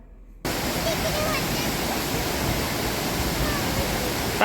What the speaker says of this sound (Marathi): समोरून पण पाणी वाहूनच राहिलं आहे